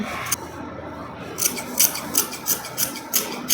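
Scissors cutting fabric for a long gown for a 14-year-old, heard as a loud, close, steady series of about seven crisp rasping snips in even rhythm, with no talking.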